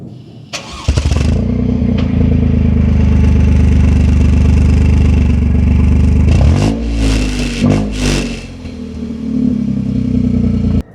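A 2025 Toyota GR Corolla with manual transmission starts up at close range, a sharp crank catching into a loud, throaty idle that holds steady, then dips and swells through a couple of brief blips before settling again.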